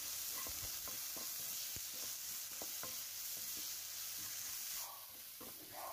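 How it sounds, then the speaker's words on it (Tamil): Onion and tomato with turmeric sautéing in oil, a steady close sizzle punctuated by repeated spatula taps and scrapes against the pan, easing slightly near the end. "இதை சேர்த்து இந்த ஆயிலே நல்லா வதக்கிடலாம்"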